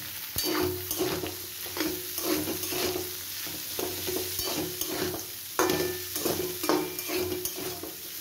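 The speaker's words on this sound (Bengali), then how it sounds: "এবার আমি এর মধ্যে পেঁয়াজটা দিয়ে দিচ্ছি।" Onion goes into a pan of fried potatoes and fries, a close sizzle broken by repeated rhythmic scraping and stirring strokes of a spatula against the pan, with no talking.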